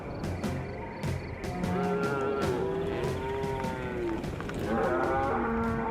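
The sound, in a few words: cattle mooing on Chico Basin Ranch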